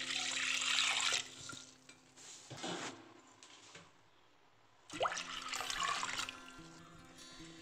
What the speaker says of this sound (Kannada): ಇವಾಗ 2 ಲೀಟ್ರ್ ಆಗುವಷ್ಟು ನೀರು ಹಾಕ್ಕೊಳ್ತೀನಿ.